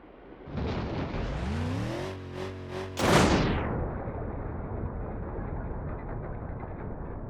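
Simulated car crash in the driving game BeamNG.drive: engine drone, then a loud sudden impact burst with a sharp crunch, followed by a steady rumbling engine and road noise with no talk.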